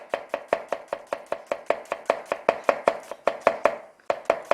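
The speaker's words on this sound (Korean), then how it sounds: "양파는요 어니언 브루리 할 거기 때문에 채를 잘 썰어 주셔야 되겠죠" A knife julienne-slicing onion on a cutting board, rapid steady chops striking the board about five times a second, crisp and close, with a brief pause near the end.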